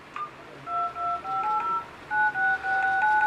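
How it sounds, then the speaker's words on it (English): Keypad tones from the phone dialer of a Chuwi V17hd 3G 7-inch tablet with an Intel Z2520 chip: a run of short, clean beeps in an uneven rhythm as keys are pressed, clear and close with no talking. "dial tone, like a sound when you press the key, and a vibration."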